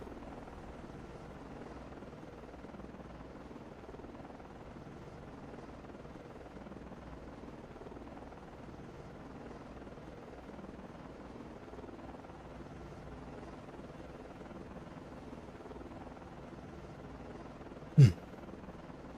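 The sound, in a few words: helicopters hovering in video game Cold Waters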